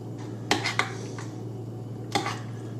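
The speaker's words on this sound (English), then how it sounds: "So let's mix it up like that. To mix up the prawns." Cooled prawns mixed by hand in a bowl for prawn cocktail: a few soft, close squelches and light clicks, quiet and sparse, with no talking.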